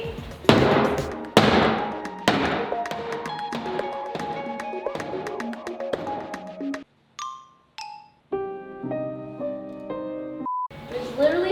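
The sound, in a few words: hammering wood off furniture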